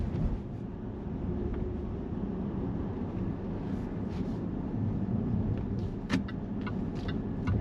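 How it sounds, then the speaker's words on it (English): Jaguar XF S (X250) engine pulling the car along under light throttle, a steady low rumble and road roar heard from inside the cabin with no talking. "just twitching the accelerator makes the car push on."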